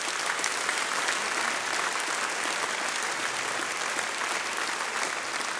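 An audience at a Swiss folk music evening gives sustained, even applause for the performers, a dense steady wash of many hands clapping with no voices over it.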